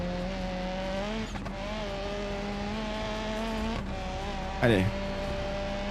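A fast car in the BeamNG Drive racing game holds a steady high engine whine that shifts pitch slightly as it speeds along, with a brief squeal near the end and a voice speaking over it.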